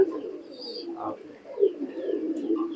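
Sialkoti pigeons, two males, coo in a soft, continuous low burble close by, with a slightly louder swell partway through and faint talk mixed in.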